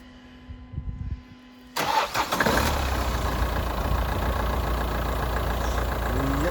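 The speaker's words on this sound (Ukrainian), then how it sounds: "Сергій, холодний пуск двигуна." A car engine cold-starts, cranking and catching after a quiet moment, then settles into a steady, even idle up close.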